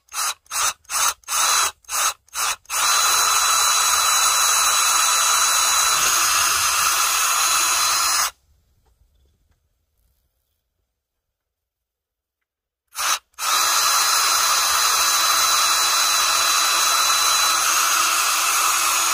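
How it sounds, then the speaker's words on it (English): A power drill with a 1/8 inch bit drilling holes into wood whirs in several short bursts, then runs steadily for a few seconds, pauses in silence, and starts up again, close and loud. "I'm going to drill holes in the top of each corner."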